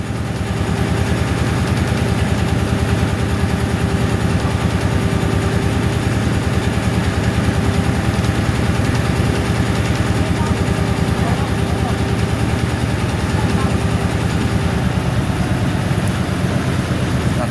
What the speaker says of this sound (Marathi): इंजिन काही काळ उलटं फिरवलं जातं ब्रेक मारण्यासाठी